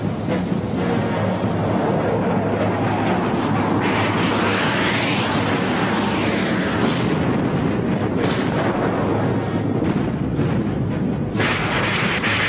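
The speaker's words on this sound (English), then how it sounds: "A daylight naval assault along the Baltic coast of West Germany, backed up by heavy Soviet bombing." Heavy Soviet bombing during a daylight naval assault on the Baltic coast, a continuous dense rumble of explosions and blasts with sharper bursts rising out of the roar, loud throughout.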